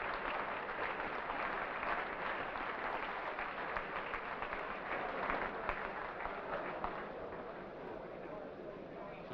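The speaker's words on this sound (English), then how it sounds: "Rudkin takes the merited applause." A crowd applauds a boxer at the Anglo-American Sporting Club after the Alan Rudkin v Rudy Corona bantamweight fight: sustained clapping with faint voices underneath.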